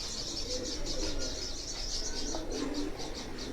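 Pigeons coo softly on a rooftop in Jalalpur Bhattian, with faint chirps and a brief flutter of wings over steady outdoor background noise, no voices.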